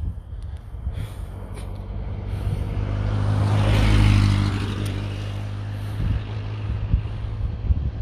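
A car approaching on a road at night, its engine rumble swelling steadily to a loud close peak near the middle before easing away, with lighter traffic noise before and after.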